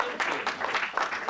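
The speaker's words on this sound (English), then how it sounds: "And a huge round of applause." An audience at a career-advice talk for young researchers claps steadily in a short, fairly close burst of applause.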